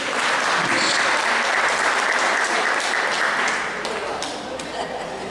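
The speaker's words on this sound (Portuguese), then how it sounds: "Corre, Madalena, vamos aplaudir o orgulho, gente." A Catholic church congregation applauds loudly during a preaching service, a dense, steady wash of many hands clapping together that eases slightly toward the end.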